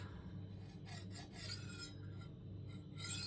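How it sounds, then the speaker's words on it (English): A kitchen knife is drawn against the unglazed bottom rim of a ceramic bowl, giving a steady series of close, gritty rasping strokes. "I won't say this is the best way of sharpening a knife"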